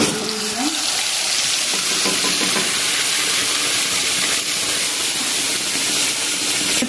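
A ground paste of onion, ginger, garlic, green chili and tomato sizzles loudly in hot oil, a dense continuous hiss with stirring scrapes, close up and without talk.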